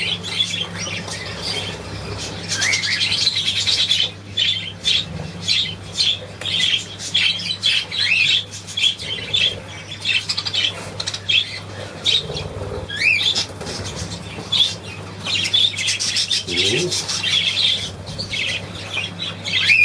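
Pet budgerigars chatter continuously with busy squawks, chirps and warbles, plus occasional wing flutters, close and fairly loud throughout with no talking.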